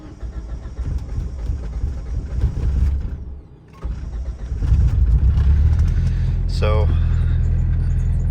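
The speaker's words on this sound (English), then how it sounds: "we'll get a cold start in and you'll kind of see what I mean from this cold start issue that I have, where it doesn't really like to fire up too well" A 2G DSM car engine cold-starting with difficulty, a close cranking rumble that stops and then catches into a rough, loud idle, with a voice talking over it.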